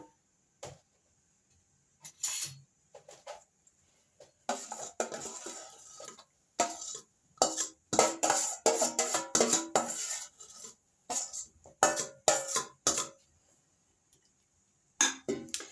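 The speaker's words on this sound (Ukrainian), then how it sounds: "Зараз я візьму ложку." A spoon clinks and scrapes against a dish in scattered bursts, with quiet pauses between the sharp metallic taps.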